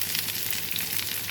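Curry leaves and asafoetida tempering sizzling steadily in a hot pan, a continuous close crackle and hiss with no pauses.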